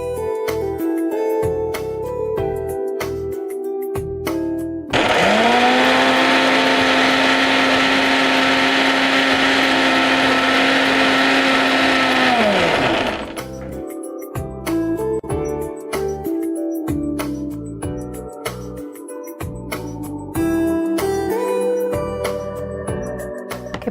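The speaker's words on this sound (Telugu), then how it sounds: "ఇప్పుడు ఇది మనం మిక్సీ పట్టేసుకుందాం." A mixer grinder blends ragi flakes with salt and water, giving one loud, steady whirring run of about eight seconds that starts and stops abruptly between stretches of background music.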